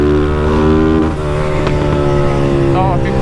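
A Honda Start, Fan or Titan motorcycle runs loud and close with a steady rumbling exhaust note, and faint pops and crackles break through the drone.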